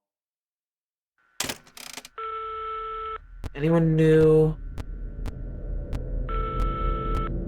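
A phone rings in a video game as repeated electronic ringing tones. Someone speaks briefly between the rings, and a low hum runs underneath.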